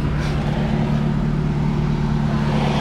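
A car engine fitted with a bolt-on turbo idles close by with a steady, deep bassy drone, loud and unbroken for a few seconds, with no talking.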